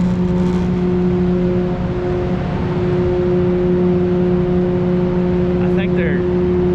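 A steady, droning exhaust vent hums with constant tonal whir at a site where trucks are being filled, close and continuous throughout, with a brief faint chirp near the end.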